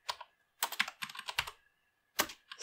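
A computer keyboard is typed on in three quick bursts of crisp clicking keystrokes with short pauses between, close and alone.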